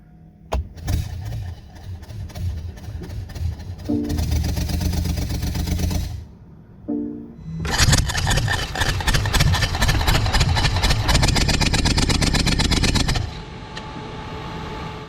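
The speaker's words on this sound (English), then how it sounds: "Car is running. Start in the sport mode." A BMW supercar engine runs in sport mode, idling and then swelling into two loud, sustained stretches of rumbling revs separated by a brief quieter dip; no voices are heard.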